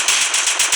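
Rapid automatic gunfire in a video game, a loud close burst of about six evenly spaced shots with no talk.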